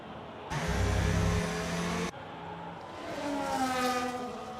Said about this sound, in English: that's the safety car you can hear, is the humming in the background